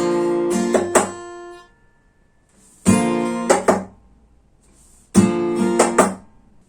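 Acoustic guitar strummed open chords, with fingerstyle percussion where the middle and index fingernails tap twice just below the sound hole; three short phrases, each ending in crisp double taps, close and clear with pauses between.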